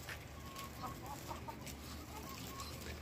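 Hens clucking in a large farmyard among ducks, soft repeated clucks rising above a constant outdoor rumble and background noise, fairly faint throughout.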